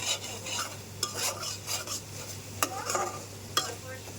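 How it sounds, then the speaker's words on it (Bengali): Spice paste for a jackfruit-seed and taro-stolon curry fries in a pan under a soft sizzle while a spoon stirs it, giving a few sharp scraping clinks against the pan over a faint background hum. "মশলাটা আগে ভালোভাবে কষিয়ে নিচ্ছি"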